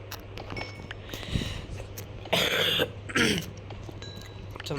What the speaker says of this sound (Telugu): కొంచెం దగ్గు సర్దిగా ఉంది